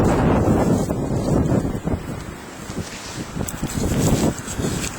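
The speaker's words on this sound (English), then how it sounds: "It is really blowing out here." Strong blizzard wind in Oklahoma roars continuously against the microphone at close range, a heavy buffeting rush that swells and eases slightly without pause, with no voices.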